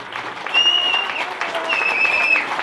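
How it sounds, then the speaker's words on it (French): A French audience applauds at a 14 July gathering, a short burst of steady clapping with a voice talking over it and a thin whistle-like tone drifting above. "je demande aussi qu'on applaudisse et qu'on remercie le maire de Camon"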